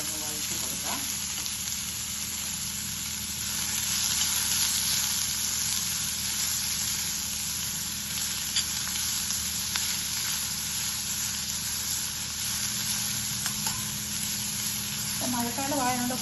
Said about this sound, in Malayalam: ഇനി നമുക്ക് അരിഞ്ഞു വെച്ചിരിക്കുന്ന പാവയ്ക്ക എണ്ണക്കകത്തോട്ടൊന്ന് വഴറ്റി കൊടുക്കാം.